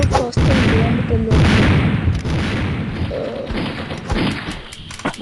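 Explosions from a bomb going off in the Mini Militia mobile shooter game, heavy booming thuds and rumbling blasts repeating loudly through the stretch.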